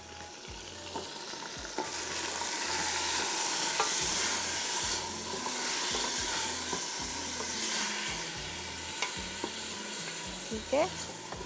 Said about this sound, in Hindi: मैं 5 मिनट इसको भून रही हूँ